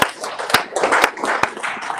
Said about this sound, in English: Please clap for yourselves and see.